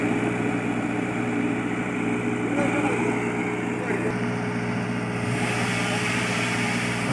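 A Tata Hitachi excavator's diesel engine runs at a steady idle outdoors, a constant low rumble with a faint vibrating drone throughout, heard at moderate distance.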